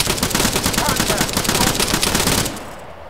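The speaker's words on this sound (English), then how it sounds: "Contact! Rifleman, we lost one! Yo, awaiting orders! Kelly, watch out, man. Enemy fire! Injured! Under fire! Contact!" Continuous automatic gunfire in Arma, a loud rapid stream of shots close by that runs nearly unbroken before dropping off in the final half second.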